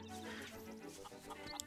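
A chicken clucks in the village of The Legend of Zelda: Link's Awakening, a few short clucks over looping game music, with a sharp bright blip near the end.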